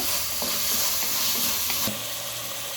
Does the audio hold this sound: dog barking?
no